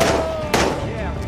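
Gunfire in the Days Gone video game, a single sharp shot standing out near the middle over a steady bed of game sound, with tonal ambience around it.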